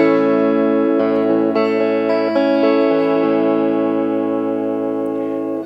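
A sustained, ringing electric guitar chord through a 1983 Peavey Backstage 20W amp with added pre-gain, overdriven and bell-like, a few notes changing over it before the sound cuts off abruptly.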